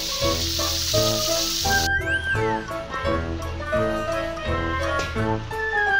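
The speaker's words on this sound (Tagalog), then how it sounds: "Prituhin natin ito dito ng masarap-sarap, tsaka mainit-init." Fish frying in a pan, with a steady, close sizzle and crackle of hot oil running throughout, while a musical tune plays in the background.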